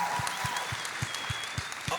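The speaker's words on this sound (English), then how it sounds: "Give a round of applause." Audience applause at a young people's panel, a broad wash of clapping with a few louder, evenly spaced thumps beneath it, fairly close and continuous for the whole stretch.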